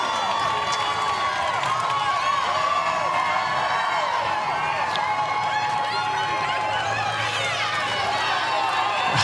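A crowd of fans runs behind CrossFit athlete Rebecca Fuselier as she climbs up the Capitol, a steady wash of cheering, whooping and footsteps with a commentator talking over it throughout.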